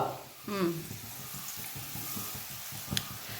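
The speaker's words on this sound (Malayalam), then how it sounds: "എണ്ണ ഒഴിച്ചു, കടുക് ഇട്ടു, കറിവേപ്പില ഇട്ടു, അതിനുശേഷം വെളുത്തുള്ളി ഇട്ടു." Mustard seeds, curry leaves and garlic sizzle in hot oil for a homemade lemon pickle, a soft, steady frying hiss with a faint clink near the end.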